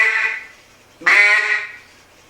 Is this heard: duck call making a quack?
yes